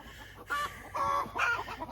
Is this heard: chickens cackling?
yes